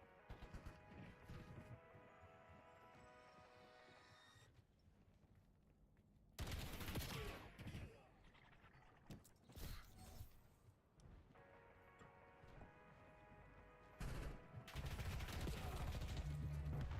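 Bursts of automatic gunfire from the shooter game Black Ops 7, loud rapid volleys separated by quieter stretches where background music and game ambience carry on.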